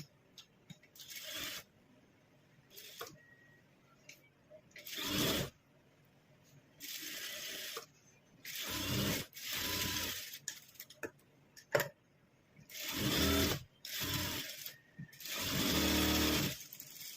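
A sewing machine stitching a blouse sleeve, running in repeated short bursts of rapid mechanical whirring and ticking, separated by quiet pauses, close and fairly loud, with no talk.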